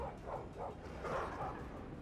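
War dogs in the game Total War Arena bark and yip in battle, a cluster of moderate, overlapping canine barks in quick succession over a busy low background.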